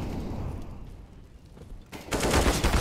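Gunfire in the Counter-Strike: Global Offensive video game, heard as a dense wash of rapid shots that thins out midway, then a louder, fuller burst of firing near the end.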